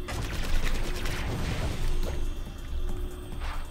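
Robots exploding in the online action game Elsword, a loud, dense crackle of blasts and debris with bursts swelling and fading, in the foreground with no talk over it.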